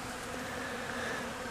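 Honey bees buzz steadily inside a hive, a close, continuous drone with a faint hum running beneath it and no talking.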